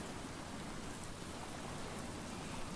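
Steady, dense rain falls in the Stranded Deep island survival video game, a constant even hiss with no pauses or other sounds standing out.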